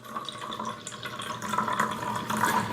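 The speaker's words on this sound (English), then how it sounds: "You can see that the water is actually being pulled down through that structure and allowed to leave the habitat" Water draining through a valve out of a soil habitat, a soft continuous trickle and gurgle that grows slightly louder toward the end.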